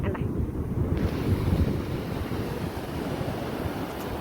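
Lagoon water rushing through a sandbar cut dug by a JCB and pouring into the sea makes a steady, loud broadband roar, with wind buffeting the microphone throughout.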